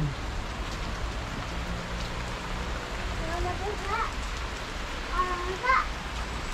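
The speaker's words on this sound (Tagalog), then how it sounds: "Pumuhos na yung ulan." Steady rain pouring down in a park in Baguio with a constant hiss, while a few faint voices and short calls rise briefly through the downpour.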